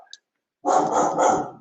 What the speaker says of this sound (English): here's my dog barking